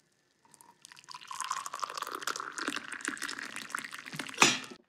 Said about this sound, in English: Welcome to my coffee pouring ASMR stream